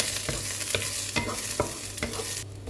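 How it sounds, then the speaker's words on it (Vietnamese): Garlic and lemongrass stir-fry in oil in a pan, giving a steady sizzle broken by sharp scraping taps of the utensil at irregular intervals, close and fairly loud with no voices. "xào lên cho thật thơm"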